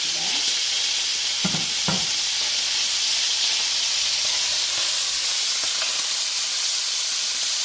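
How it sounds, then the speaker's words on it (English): Saltfish frying in oil in a pot for fried rice, a steady, close broadband sizzle throughout, with a couple of brief clunks of stirring or tossing early on. "You want to fry the saltfish until it gets really crisp and brown."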